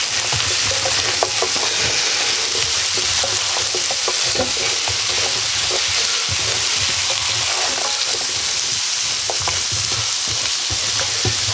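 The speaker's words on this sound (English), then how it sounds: "So we'll give this a good stir up." A spoon stirs creamy Italian sausage and mushroom pasta with crushed red pepper in a hot pan, giving a steady close sizzle broken by repeated scraping strokes.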